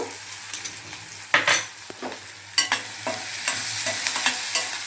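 Chopped onions softening in a hot pan for a chana dal and egg curry give a steady close sizzle, broken by several sharp scraping stirs of a spoon against the pan.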